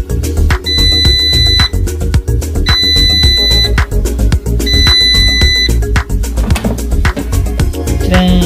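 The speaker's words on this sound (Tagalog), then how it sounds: "Kusa siya mamatay, tapos meron siyang tunog tut" A Bellini air fryer beeps to signal that a fish fillet has finished cooking. Three evenly spaced bursts of high, rapid beeping sound over loud, dense background music.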